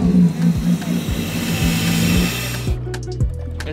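Engine of a vintage Mercedes running close by with a steady low rumble, then cutting out as the stuck throttle is moved, leaving faint clicks and mechanical settling.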